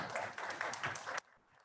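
An audience at a conference on digital service taxes claps briefly, a short burst that cuts off abruptly, leaving quiet room tone.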